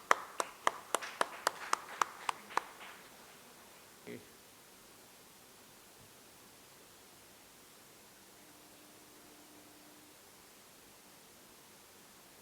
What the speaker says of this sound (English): Let's clap for the lady.